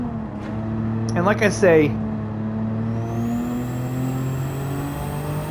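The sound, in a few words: race car engines in video game Gran Turismo 7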